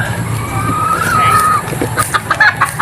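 A white Kelso rooster clucks in a few short, close calls over a low background hum, with a voice talking nearby.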